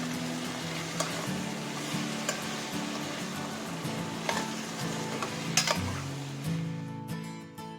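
Dried red chillies and black cumin sizzle in hot oil as a tempering, with a steady, close crackling hiss and a few light clinks of a utensil against the pan.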